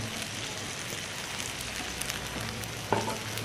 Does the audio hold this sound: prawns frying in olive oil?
yes